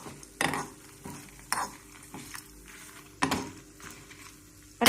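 Grated coconut dry-roasts in a pan: a spatula scrapes and stirs in a few distinct, sharp strokes over a faint, low crackle.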